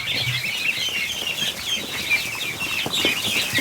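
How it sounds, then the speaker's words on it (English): A crowd of ducklings from a large hatch of duck and goose eggs keeps up a dense, continuous chorus of high peeping and chirping, steady and fairly loud throughout. "Just a mess of ducklings."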